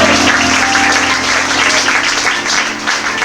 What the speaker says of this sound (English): Audience, a round of applause for our judges.